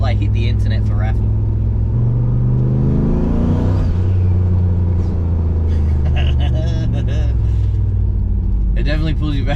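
An LS-swapped turbocharged CV8 Monaro accelerates hard, its engine drone climbing steadily in pitch and then settling into a loud, continuous roar heard from inside the car, with occupants talking and exclaiming over it.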